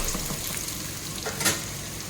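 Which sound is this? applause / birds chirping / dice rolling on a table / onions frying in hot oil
onions frying in hot oil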